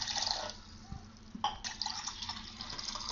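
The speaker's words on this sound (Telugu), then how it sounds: "ఒక రెండు గ్లాసులు వాటర్ యాడ్ చేసుకోవాలి." Roughly two glasses of water poured into a pot on a stove, a steady liquid splash and trickle with a few brief clinks, fairly quiet and without voices.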